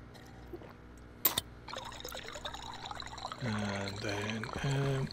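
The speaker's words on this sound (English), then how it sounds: "Have a slurp of water." Drinking water in the Stationeers space survival game: a soft pouring trickle, followed by a few quiet gulping, slurping sounds close up, faint overall.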